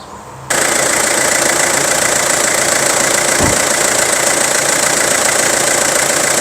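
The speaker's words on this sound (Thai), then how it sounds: "ดี๋ยวสตาร์ทฟังเสียงเครื่องยนต์กันนะครับ" An Isuzu Rodeo 4WD diesel engine starts after a brief quiet moment, then idles steadily and loudly up close with a dense, even mechanical rumble, with a single short knock partway through.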